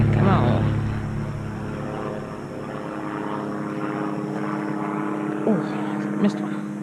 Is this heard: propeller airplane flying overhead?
yes